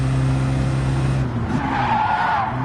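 Race car tires in Gran Turismo 7 skid under locked brakes, a loud squeal as the engine tone drops away, followed by a smeared screech lasting through the end, with no talk.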